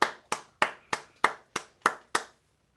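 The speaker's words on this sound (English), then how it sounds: "We can see you clap, guys." Eight sharp hand claps from an audience at a live artists' event, in an even, steady rhythm, close and crisp, followed by silence.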